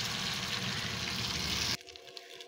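Beaten egg mixture hits hot oil with a loud, steady sizzle that cuts off abruptly about two-thirds through, leaving only faint quiet crackling, with no talk.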